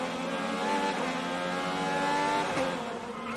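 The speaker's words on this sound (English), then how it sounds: "Pushed wide, cars going by." IndyCar race cars roar past at Portland International Raceway during the opening lap, a dense, loud blend of high-revving engines with overlapping whines rising and falling as several cars pass close by.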